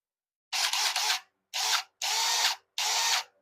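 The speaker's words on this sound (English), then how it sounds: "So I'm going to attach it to the drill." Power drill fitted with a hook-and-loop pad attachment, used to polish the roof of an SRT car, runs in four short bursts. Each whirring spin-up is close and loud, with brief silences between bursts.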